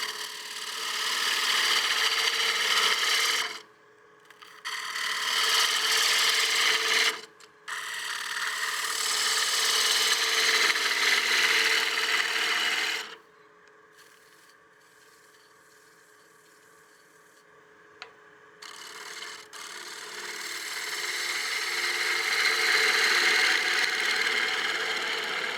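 Wood lathe turning a partially seasoned bowl, the tool cleaning up the outer surface and removing bulk, a steady broadband scraping hiss in long passes broken by short pauses and one longer quiet gap.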